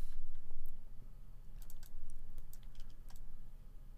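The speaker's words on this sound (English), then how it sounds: "hold down O on the keyboard and click" Keyboard key presses and a mouse click at a computer during work in the UDK editor, a few light, sharp clicks scattered over a steady low hum, close and fairly quiet, with no talking.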